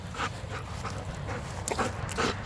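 A dog pants in quick, rhythmic breaths, close by, with a steady low background rumble.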